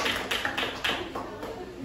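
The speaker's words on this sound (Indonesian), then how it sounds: "Tepuk tangan untuk Abu Bakar As-Siddiq" Classroom students clap for a group of sixth graders, giving a dense patter of hand claps with several louder sharp claps, under light background noise.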